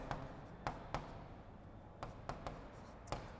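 Chalk or marker writing maths equations on a board: a string of sharp taps and short strokes at uneven intervals, fairly close, with no voice.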